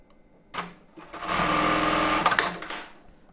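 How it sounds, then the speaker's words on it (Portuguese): A sewing machine stitches a seam across the top of an embroidered tulle bra cup. There is a brief click, then a close, loud, even burst of rapid stitching lasting about a second and a half before it winds down. "agora eu vou dobrar ela aqui e vou fazer essa costura aqui em cima do bojo"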